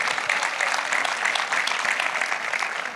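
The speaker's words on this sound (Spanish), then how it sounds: "Sí, denle un aplauso." Worshippers in a bilingual New Testament class on Romans clap together, a sustained, even wash of many hands that carries on steadily for three seconds before easing slightly at the end.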